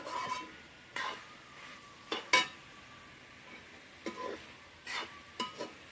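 A kilo of meat is stirred and roasted in a pot over a wood-fired stove, with intermittent scraping and clinking strokes of the spoon against the pot over a faint background sizzle.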